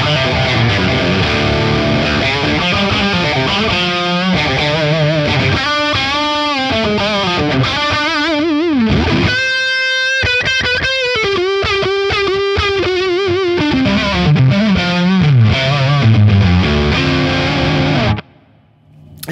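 Thorpy FX The Dane overdrive pedal with its gain turned fully up, heard through an amp as a loud, saturated electric guitar playing sustained distorted chords and riffs without pause, ending abruptly.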